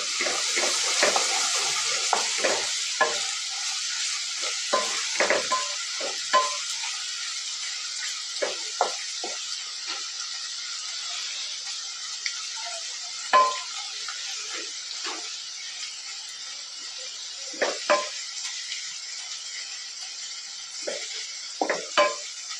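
Garlic frying in hot oil for chole, a thin, steady high sizzle with scattered crackles and occasional stirring knocks, fairly quiet and unbroken by speech.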